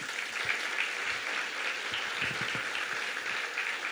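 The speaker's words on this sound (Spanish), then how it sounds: "denle un aplauso al Señor." A church congregation applauds steadily and evenly throughout, a dense wash of many hands clapping at once with no voices over it.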